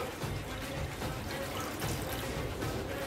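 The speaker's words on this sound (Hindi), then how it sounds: "हम इसमें पानी ऐड करेंगे" Water pours steadily into a kadhai set up for steaming ukadiche modak, a continuous splashing, trickling wash that runs through the whole stretch at moderate loudness.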